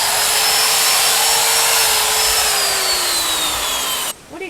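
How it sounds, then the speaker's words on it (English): A wire brush on a power tool grinds rust and dead paint off a van's wheels, a continuous loud whirring scrape with a slowly sagging pitch that stops abruptly near the end. "It's not a sander. It's wire brush. This is the best way to get all the rust and dead paint off this sort of surface."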